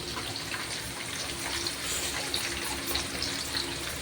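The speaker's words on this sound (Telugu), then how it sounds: "పచ్చిమిరపకాయలు వేసుకోవాలి. అసలు బాగా వేగాలి." Green chillies and onions fry in a pan with a steady, fairly loud sizzle and hiss throughout, with no voices over it.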